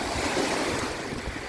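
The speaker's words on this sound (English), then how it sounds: "It's a windy day on the Bruce." Wind and waves wash against the Bruce Peninsula shore on a windy day, a constant broad surf roar with gusty wind buffeting the microphone, loud and continuous.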